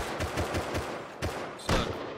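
Automatic gunfire in the Rust video game, rapid bursts of shots in a steady stuttering rhythm with a brief pause and a sharper louder burst near the end, no talk.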